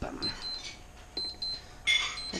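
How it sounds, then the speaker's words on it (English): A kitchen timer beeps in a home kitchen during chocolate stout cake baking, giving a few short, thin electronic tones that rise out of quiet room noise, with a brighter burst of beeps near the end. "That's my timer to tell me to do this with the cake."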